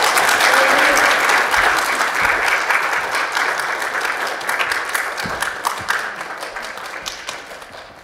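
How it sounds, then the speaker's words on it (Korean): A church congregation claps in welcome as a missionary comes forward, a dense roar of applause that starts strong and gradually thins and fades, with a few scattered claps trailing toward the end. "선교사님 나오실 때 환영하는 의미로 우리 박수를 치겠습니다."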